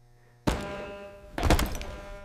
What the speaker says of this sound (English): his chin hit the concrete floor with a heavy and painful thud